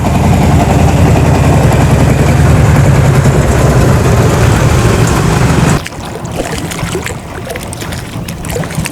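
A motorboat engine on the Bhadrabati river in Bogura, a loud steady drone with rushing water that cuts off abruptly, leaving a quieter wash of waves and ambient noise.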